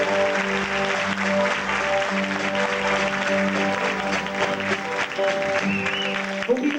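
Audience applause fills a 1993 live country music show, a dense steady clapping that lasts the whole stretch while the band's sustained notes keep playing underneath.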